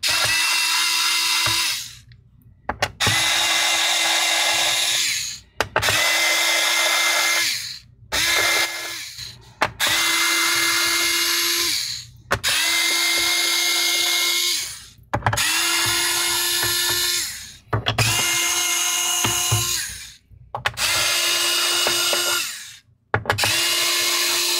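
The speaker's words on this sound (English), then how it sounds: "This happened to be the electronic screwdriver." Electric screwdriver backing out the small screws of an Acer Go 15 N24H7 laptop's back cover: nine loud whirring bursts of a few seconds each, separated by short pauses, close up with no talking.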